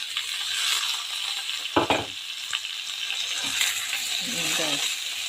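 Black pepper, carrots and mushrooms sizzle and fry in a pan for a steady stretch. There is a sharp clatter partway through and some faint stirring scrapes near the end.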